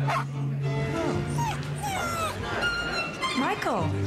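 A dog whimpers and yips in a dog food commercial for Caesar, with thin whines rising and falling over people talking.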